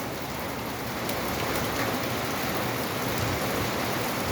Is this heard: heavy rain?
yes